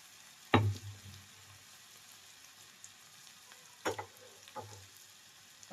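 Garlic fries in hot oil in a pan for palak bhaji, giving a quiet background sizzle broken by a few louder clattering stirs near and close.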